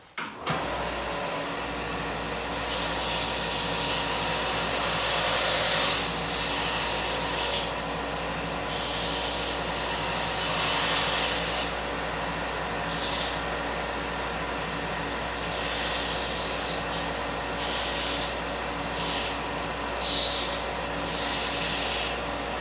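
A grinder takes down a sharp metal blade edge on a part for a Honda GX200 clone engine build, in intermittent rough, hissing bursts of a few seconds each over a steady low motor hum.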